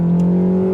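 Honda Accord CL9 Type S engine held at high revs, a brief loud, steady harmonic drone with a strong tonal hum, heard alone without talk.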